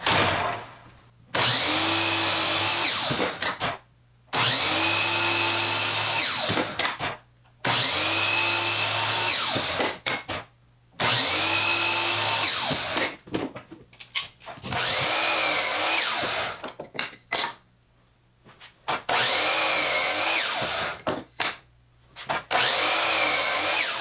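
A powered miter saw cuts angled wood pieces in a workshop, with about seven loud, near whining cuts, each a few seconds long and separated by short quiet gaps. No one speaks.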